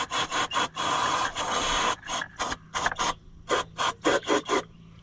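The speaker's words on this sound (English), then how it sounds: "probably a screwdriver to scrape off some of the" A screwdriver scrapes crusty residue off a sticky fuel-leaking part, first in a long continuous rasp, then in a string of short, evenly spaced strokes, close up and alone.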